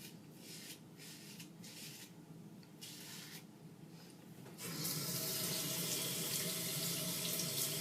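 Tap water runs while a razor is rinsed, first as a quiet broken trickle with pauses, then as a louder continuous splashing stream into a sink.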